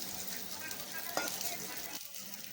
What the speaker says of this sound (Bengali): এদিকে আরও ঢ্যাঁড়স ভাজা হয়ে গেল